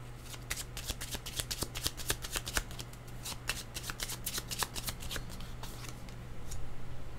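Tarot cards being shuffled by hand in quick, crisp riffling bursts, close and fairly quiet, with irregular pauses between flurries.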